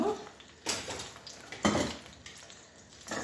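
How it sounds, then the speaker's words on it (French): Pieces of beef are dropped into a hot pan over high heat to brown for a beef tagine, with clattering metal pan and utensil knocks over a soft background sizzle. "je vais mettre mes morceaux de bœuf que je vais faire revenir un petit peu"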